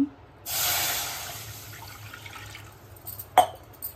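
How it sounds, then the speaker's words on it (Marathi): Water poured from a vessel into a pan set up for cooking moth beans, a steady splashing stream for about two seconds that tapers off, followed by a few drips and light clinks. "आता टाकू पाणी"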